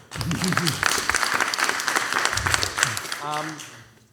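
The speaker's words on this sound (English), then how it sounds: "Big round of applause for Jerry." An audience at a live talk show applauds in a sustained round of clapping, mixed with a speaker's voice throughout.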